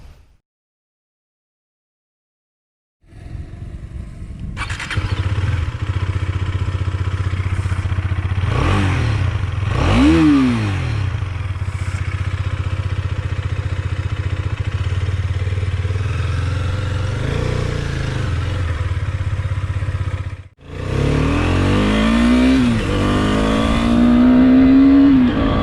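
A Husqvarna Svartpilen 250 motorcycle starts up after a short silence, settles into a steady idle, then revs sharply several times, loud and close, with a brief cut and another rising rev near the end.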